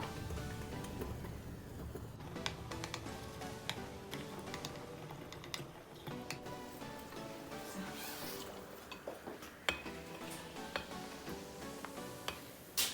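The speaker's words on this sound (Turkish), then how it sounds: "Şimdi bir karıştıracağım." A spoon stirs melted chocolate mixed with vegetable oil in a bowl, giving soft irregular scrapes and light clicks at close range, with no talking.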